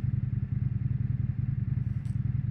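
An Indian FTR 1200 motorcycle ridden at night through Belgrade, its engine a low rhythmic throbbing drone that stays steady and close throughout, with a brief faint high sound near the end.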